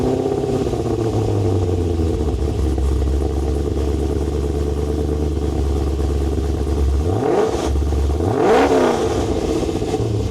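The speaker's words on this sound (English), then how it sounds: "what I'm really looking forward to is my first cold start with the HSV Maloo" An HSV VE Maloo R8 ute fires up from cold and settles into a loud, lumpy idle, then is blipped twice near the end, the revs sweeping up and falling back each time, close by and without talk.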